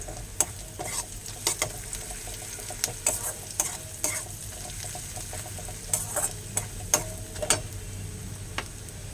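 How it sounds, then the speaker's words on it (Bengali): Onions frying in a pan with turmeric and chili powder added, a constant close sizzle broken by repeated sharp clicks and scrapes of a stirring spoon against the pan, with no voices. "এখন আমি পেঁয়াজগুলোকে ভেজে নিই"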